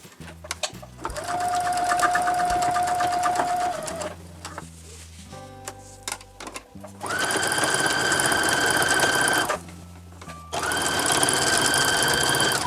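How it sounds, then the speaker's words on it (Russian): A sewing machine runs a long basting stitch along a seam in a short jacket, in three loud, steady bursts separated by short pauses with faint clicks and handling. It sounds close and mechanical. "Ставим крупный стежок."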